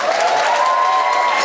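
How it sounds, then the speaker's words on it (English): Audience clapping at an animation festival student awards ceremony, a dense continuous wash of applause with a faint sustained tone running beneath it. "So please give them a round of applause"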